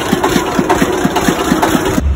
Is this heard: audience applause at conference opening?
no